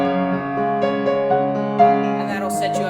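Piano plays the opening of a song as a simple lesson arrangement, sustained chords and a slow melody ringing clearly and close, with no talking over it.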